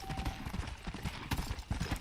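Horse hooves clip-clop in a steady, even trot in the Red Dead Redemption video game, moderately loud and close, with no other sound on top.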